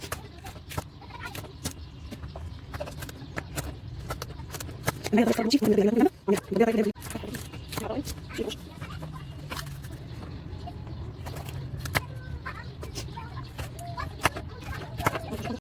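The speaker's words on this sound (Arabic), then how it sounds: "هبتدي بقى ان احنا نقطع الفلفل برده كده الحجم اللي انتوا حابينه" Knife chopping hot chili and red bell peppers on a board for an Egyptian restaurant-style salad: a long run of quick, close, evenly spaced taps, with a brief louder stretch midway and some background murmur.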